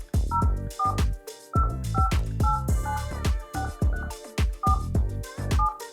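Touch-tone dialing beeps from a 3CX phone system, a quick series of keypad tones sounding over rhythmic background music with no speech.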